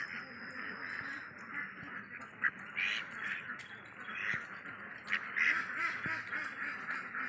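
Male ducks kept on a farm quack repeatedly in scattered, overlapping bursts, near and moderately loud, with some shuffling and a few sharp knocks among them.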